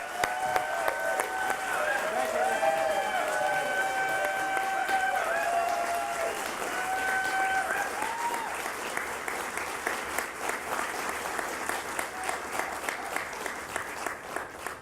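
An audience applauds as a speaker is welcomed to the podium at a Nasdaq closing bell event in New York City, with steady clapping sustained over a crowd murmur and a few voices talking through it.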